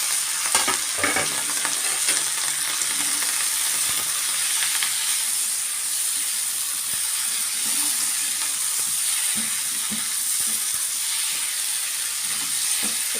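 Ridge gourd and fish sizzle and fry in a pan with a steady loud hiss, while a utensil stirs and scrapes through the pieces in repeated strokes close by.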